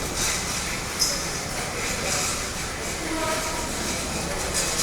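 A train waits at a busy station in Ishwardi, a low steady rumble under crowd murmur with a sharp click near the start.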